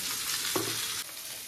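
Vegetables for shukto frying in a pan give a continuous close sizzle with one brief scrape of a spoon midway, no talking.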